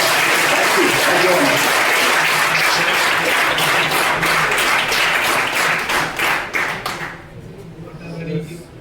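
Sustained applause from an audience at a panel discussion on IKS and AI, a dense wash of many hands clapping that fades out near the end.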